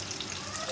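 Soy sauce frying in ghee in a pan gives a steady, dense sizzle, loud and close, a brief continuous crackle with no pauses.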